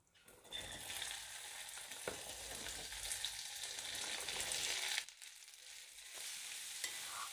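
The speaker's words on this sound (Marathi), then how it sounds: "तेल तापलं की त्यात आपल्याला कापून घेतलेली भेंडी टाकून घ्यायची आहे." Sliced okra (bhendi) frying in hot oil in a kadhai, a steady loud sizzle with a brief stir around the middle and a dip near the end before the hiss resumes, with no talking.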